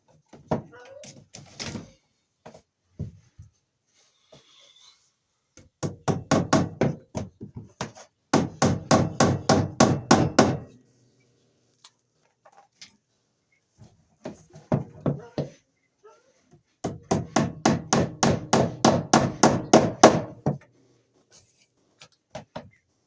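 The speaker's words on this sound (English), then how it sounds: "we'll get our wire stapled to come down to our outlet" Electrical wire being stapled to wooden framing, a series of sharp hammer blows striking in quick rhythmic bursts, close and loud, with short pauses between runs and brief talk.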